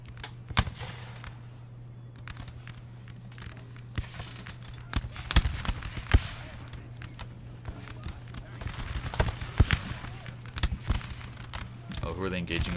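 Musket volleys crack and pop repeatedly in the video game Napoleon: Total War, some distant and some closer, over a low steady drone. A voice talks near the end.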